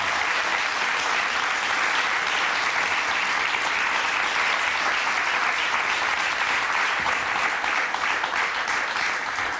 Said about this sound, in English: I think that the band deserve a bigger round of applause